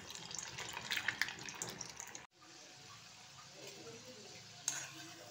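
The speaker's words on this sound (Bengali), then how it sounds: "এরকম ফ্রাই হচ্ছে জিনিসটা" Chhana puli fry in hot oil at medium heat, giving a quiet, continuous hissing sizzle with scattered crackles, a brief break partway, and a small splash near the end.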